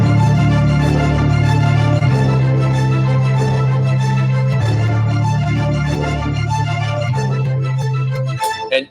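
Looping ostinato cue for video game combat: a steady low repeating figure under layered melodic parts, loud and continuous, cycling the same pattern over and over before cutting off at the end.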